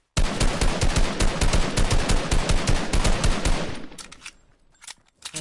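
Assault rifle in Fortnite firing in long, rapid full-auto bursts, loud and close, each shot sharply separated, then a brief pause followed by a few more scattered shots as the burst trails off.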